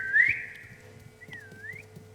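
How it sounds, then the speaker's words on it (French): A person whistling, a short rising note followed by a longer sweeping tone that dips and rises, heard faint against a quiet background with light tapping. "Je siffle là."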